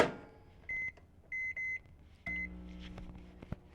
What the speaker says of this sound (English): just put it in the microwave for 3 minutes.